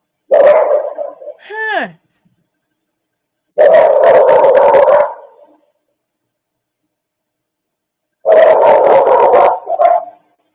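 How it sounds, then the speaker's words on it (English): Dogs barking in a residential neighborhood, caught on outdoor camera footage: three separate bursts of sharp, loud barking with pauses of silence between them and a brief whine, plus a short spoken word near the start. "Something just woke up that second dog."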